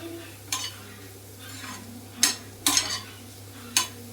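A spatula scrapes and stirs cucumber frying in a pan on the stove, giving several separate scraping strokes at uneven intervals over a soft, steady background hum. No one speaks.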